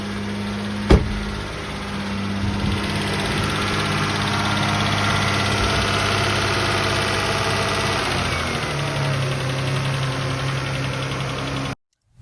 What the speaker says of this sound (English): I'm going to touch the gas pedal.